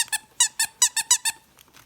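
A plush squeaky dog toy shaped like a furry-tailed character with a little sword and shield, squeezed repeatedly to give about seven sharp, close squeaks in a quick, uneven rhythm.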